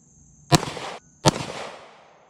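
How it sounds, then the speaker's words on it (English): Two sharp pistol shots from a Ruger 57 semi-automatic handgun, evenly spaced about three-quarters of a second apart, each loud and close with a short ringing decay and no talking between. "Now let's just see how we do with our first shots here."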